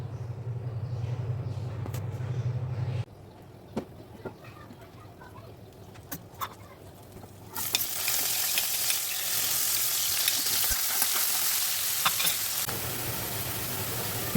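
A big fish fries in a pan: a faint simmer at first, then a loud, steady hiss and crackle of sizzling oil takes over for the latter half, with occasional clinks of stirring.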